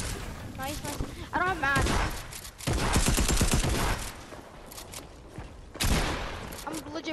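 Gunfire in a video game: bursts of rapid shots and volleys come in several waves, loud at times and fading at others, mixed with players talking over them.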